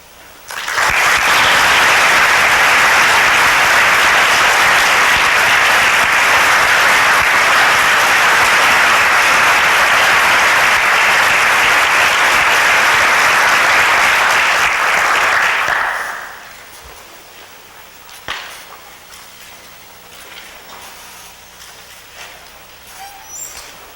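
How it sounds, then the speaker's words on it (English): Large audience at a high school hall of fame induction ceremony in a hall gives loud, sustained applause for about fifteen seconds, then it stops abruptly, leaving quiet room tone with a few faint knocks. "I think all of you at this point would like to join me again in a round of applause"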